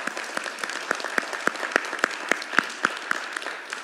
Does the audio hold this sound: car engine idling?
no